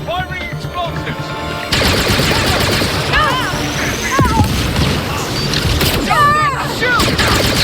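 Sustained gunfire and explosions fill a firefight in the Star Wars Outlaws video game, with loud rapid shots, crashes and booms, plus sweeping laser-like zaps and voices shouting over the din.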